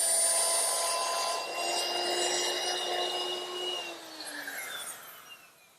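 Power router fitted with a round nose bit cutting hinge recesses in wood: a steady, loud high-pitched whine that holds for several seconds, then drops in pitch and fades out as the tool spins down.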